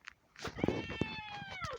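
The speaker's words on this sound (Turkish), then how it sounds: "kediyi bırak ya yazık hayvana" A close cat gives a single drawn-out meow with a falling pitch, over a few soft background knocks and room noise indoors.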